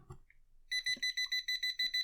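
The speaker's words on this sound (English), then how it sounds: "it starts beeping fast and red means high." A Kaiweets KM601s multimeter's non-contact voltage detector beeps rapidly in a fast, even string of shrill tones near an AC extension cord wire, after a few faint background sounds.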